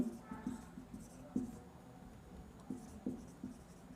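A pen writes on paper during a Class 10 maths lesson, making quiet, close scratchy strokes in short irregular bursts over a soft background hum.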